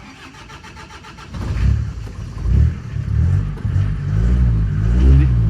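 Owner-type jeep with a diesel engine cranking and catching, then running at a steady, fairly quiet idle with a low rhythmic throb, close by and with no talk.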